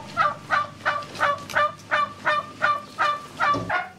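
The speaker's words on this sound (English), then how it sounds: "he's got a chicken coop here where we're gonna grab some fresh eggs" Turkeys gobble in a farm chicken coop, a steady series of about ten loud, close gobbling bursts in an even rhythm, with no talking over them.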